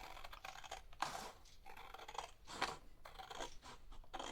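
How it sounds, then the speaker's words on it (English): Scissors snip down a paper fold in a series of quick, close, crisp cuts, several sharp bursts spaced irregularly with short pauses between them. "we're going to snip down this fold"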